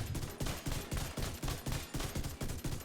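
An exotic rifle in The Division 2 fires explosive rounds in a rapid, even burst of about a dozen loud, close shots, each with a sharp crack and short boom.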